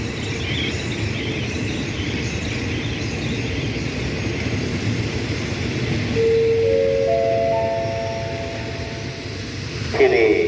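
Train pulling into Ban Pong station, a steady rolling rumble with insects chirping around it and a rising tone near the end, voices talking in the background.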